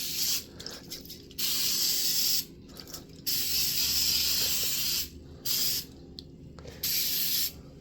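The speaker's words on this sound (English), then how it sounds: "we are going to use our cooking spray" Cooking spray greasing a baking pan, several bursts of sharp aerosol hiss, each a second or so long with short pauses between, close and clear over a quiet room.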